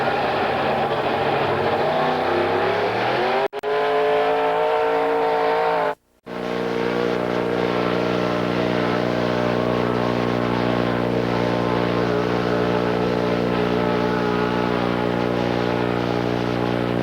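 A 1975 Dodge Hemi engine named Big Bub runs loud and close at a pulling event, rising as it revs, then holding a steady, heavy drone with strong harmonics after a brief cutout.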